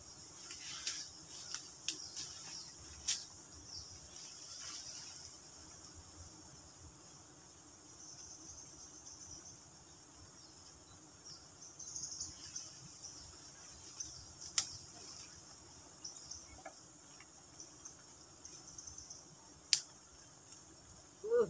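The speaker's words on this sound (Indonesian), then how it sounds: "Ini jangkrik." Crickets chirp steadily in the background outdoors in the early morning near a forest honey harvest, a faint continuous insect buzz with a few sharp clicks and rustles.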